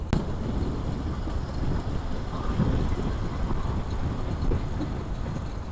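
Strong wind buffets a motorbike crossing a bridge, producing a continuous loud, rumbling roar without pause.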